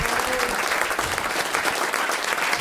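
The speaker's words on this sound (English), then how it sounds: "Can we have a big round of applause for our very special guest, Mr. Nick Mason" Enthusiastic audience applause for a guest at a live comedy podcast, dense continuous clapping from a crowd throughout, loud and near.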